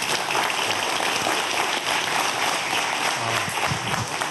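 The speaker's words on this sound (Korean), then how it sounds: "여러분 큰 박수 한번 부탁드릴게요" An audience at a physics lecture gives loud, continuous applause that fills the room for several seconds.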